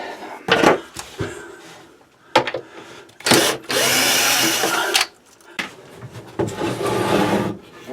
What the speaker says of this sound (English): So I guess we got a few screws to take off